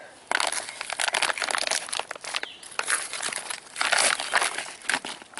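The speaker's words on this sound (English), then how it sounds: "So let's rip it open here." Plastic packaging of a Blizzard rescue jacket ripped open and handled, a close run of loud crinkling, rustling and tearing bursts that continue almost without pause.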